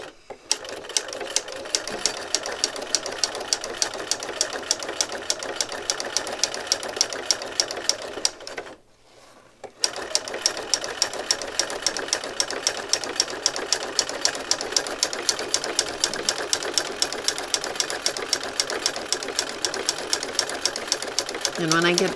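Sewing machine running a zigzag stitch set as wide as it will go, sewing a circle; steady rapid needle clatter close up, with a short pause midway before stitching resumes, with a voice talking at times.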